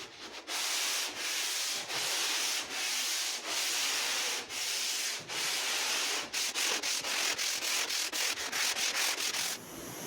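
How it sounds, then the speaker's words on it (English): A new 40-grit longboard with custom handles scrapes across a boat hull during fairing, steady rasping strokes separated by brief pauses, quickening into shorter choppy strokes toward the end, close and alone. "removing the high points. 40 grit, new longboard, custom handles, shaped off Stanley plain handles"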